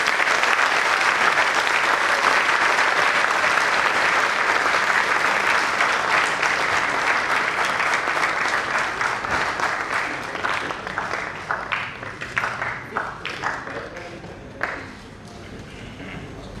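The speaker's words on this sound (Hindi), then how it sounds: "जोरदार तालियां आपकी" A large audience at the inauguration of a national theatre festival bursts into loud, sustained applause that gradually thins into scattered claps near the end.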